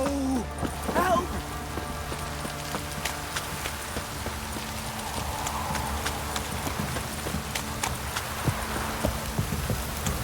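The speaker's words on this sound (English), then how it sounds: "This downpour's a bastard, it is." Heavy rain pattering steadily in the video game The Witcher 3, mixed with horse hooves clip-clopping and a brief voice early on, the downpour forming a dense continuous hiss throughout.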